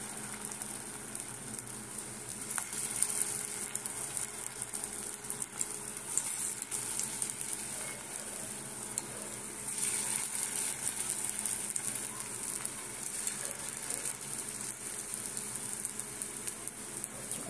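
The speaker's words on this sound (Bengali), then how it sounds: "আর বাকি 5খানা তাওয়াতে আবার অল্প একটু তেল দিয়েছি" Chana dal kebabs fry in a little oil on a tawa, giving a steady, moderately loud sizzle that runs throughout with soft crackles and no talking.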